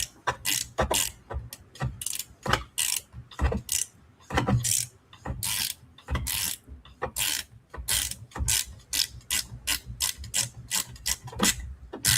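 A hand ratchet clicks rapidly while driving a screw during replacement of the twin fan on an Appion G5 refrigerant recovery machine, in fast close bursts of pawl clicks with short pauses between strokes, no talking.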